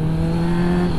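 A car engine drones loud and steady at a traffic light before a race, a strong constant hum with a firm low tone and no break, heard up close from inside the car.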